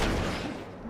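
A single heavy gunshot boom in the game The Order: 1886, loud and close, with a long rumbling tail fading away.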